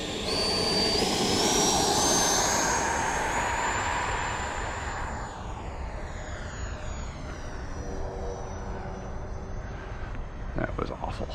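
An FMS Futura 80mm EDF RC jet flies overhead with a high ducted-fan whine that rises and then sweeps down as it passes. The sound fades and shifts in pitch while it circles back.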